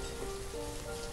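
Rain in the village-building game Banished during late autumn, a steady soft hiss of falling rain with a faint tonal hum underneath, even and continuous.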